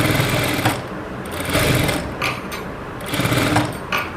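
A sewing machine stitches thread piping onto cloth, its close mechanical whir running in short rhythmic bursts that start and stop several times.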